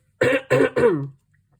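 Three quick, close throat-clearing coughs in a row, harsh and voiced, then silence.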